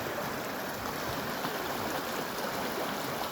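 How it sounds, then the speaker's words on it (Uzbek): A river flowing near a village, heard as a continuous broadband rush of moving water, steady and fairly close with no talk over it. "Daryoni oqqanini qarang."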